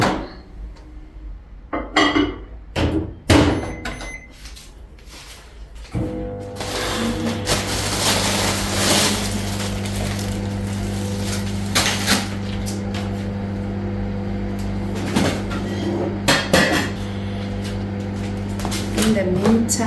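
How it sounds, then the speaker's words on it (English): A microwave oven runs in a home kitchen to melt food, its steady hum starting about a third of the way in and continuing under dish and cupboard clatter and someone talking. "I'm gonna melt this in the microwave."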